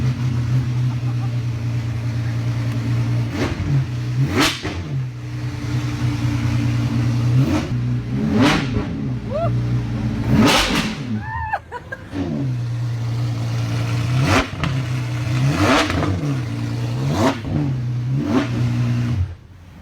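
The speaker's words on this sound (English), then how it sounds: "We're about to hear what a naturally aspirated V12 in the Apollo sounds like." Naturally aspirated V12 engine in the Apollo car, loud and close, idling with a steady drone and then blipped repeatedly in sharp revs, roughly ten throttle stabs spread across the clip with no talk over them.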